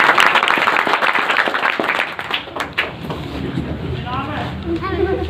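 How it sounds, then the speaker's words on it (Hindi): Dense applause from a crowd at a political gathering welcoming a speaker to the stage, loud at first and then thinning out as a voice begins talking over it. "तालियों से स्वागत कीजिए।"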